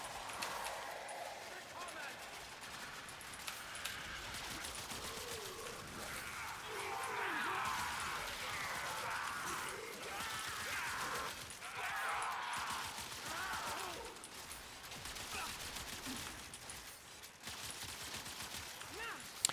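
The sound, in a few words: gunfire from Zakti Prime in the video game Warframe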